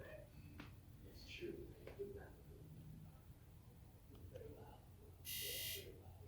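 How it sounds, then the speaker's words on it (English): A 2001 Sea-Doo GTX DI 951 personal watercraft emits a brief high electronic beep during a diagnostic maintenance signal test, heard near the end after quiet clicks and low background noise. "That should give you some kind of beep right there"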